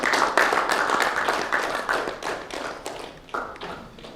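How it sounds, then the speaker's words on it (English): Applause fills a stage event as actor Karthik Jayaram is welcomed, a close, dense burst of clapping that gradually thins and fades over a few seconds. "on the stage with a big round of applause"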